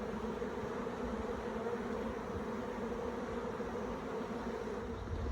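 Honey bees buzz in a dense, continuous drone around crowded hive boxes being supered to a triple, close and steady throughout with no talk.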